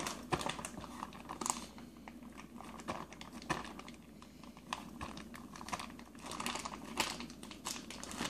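Plastic freezer bag holding chicken in barbecue sauce, pressed by hand to squeeze out the air: faint, close crinkling and soft rustling with small taps, continuous and quiet.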